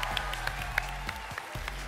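Audience applause at a live television talent show concert, dense steady clapping over a low hum of the hall, fairly faint and heard for only a moment.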